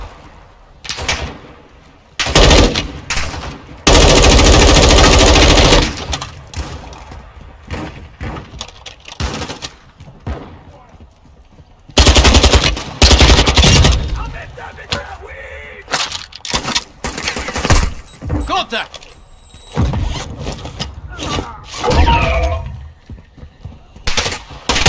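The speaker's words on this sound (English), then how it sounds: "Taking effective fire." Bursts of heavy machine gun fire from a helicopter video game, loud and sustained in long stretches with short pauses between volleys, a voice speaking briefly among the shots.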